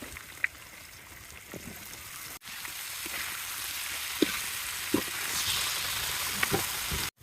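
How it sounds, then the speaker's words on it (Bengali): Kakrol (spiny gourd) and potato frying in hot oil in a pan, a steady close sizzle with occasional stirring clicks and small pops throughout, slightly louder in the second half; no talking. "কারল আর আলু এখনই ভাজিয়ে নেব আমরা।"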